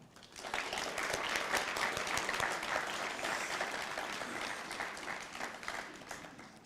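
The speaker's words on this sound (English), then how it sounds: "can we pause and give them a round of applause?" Steady audience applause for nursing instructors at a nursing pinning ceremony, many hands clapping, building quickly and holding evenly before easing slightly at the end, heard from within the room.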